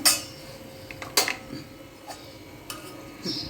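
A metal spoon clinks against a pan while hot oil is spooned onto ingredients for raw mango pickle, giving a few sharp, close taps spaced apart over a quiet kitchen background.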